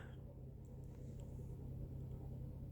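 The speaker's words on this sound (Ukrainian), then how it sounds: "А машинка правильно стирає там. Чути, як калатає." A washing machine runs through its wash cycle, giving off a steady, low, droning rumble that fills the room at moderate volume without clear separate knocks.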